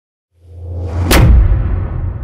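A cinematic whoosh-hit sound effect with no EQ applied swells up from silence as a rushing whoosh, then slams into a bright, heavy impact with a deep booming tail that keeps ringing loudly, with no other sound.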